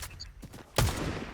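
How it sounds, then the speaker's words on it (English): Gunfire in a video game battle: a burst of crackling shots near the start, then a sharp louder blast followed by a noisy rumbling tail, heard at moderate distance. "I hear gunshots"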